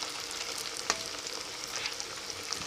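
Stuffed kakrol fritters frying in hot oil, giving a soft, continuous sizzle with scattered small pops and crackles, faint and close, with no voices.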